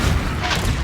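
A Confringo blasting spell explodes in Hogwarts Legacy, a dense, booming burst of noise filling the short moment at steady loudness with no voices over it.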